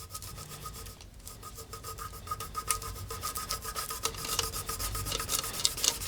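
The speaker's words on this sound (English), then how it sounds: "press this foil straight over the area where the glue is and just give it a really good rub down" Transfer foil being rubbed hard by hand over glue on a tumbler, a continuous close scraping rasp with quick repeated strokes that grows slightly louder toward the end.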